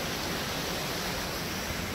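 A mountain river rushes steadily along a trail up toward Marmot Pass, a dense, even hiss of flowing water with no pauses or other sounds.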